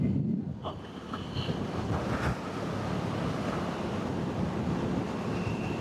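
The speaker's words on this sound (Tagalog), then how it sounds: "Dito na tayo sa may gilid ng dagat ng SBMA." Steady broadband wash of surf along the shore at Subic Bay, with wind buffeting the microphone throughout; no voices.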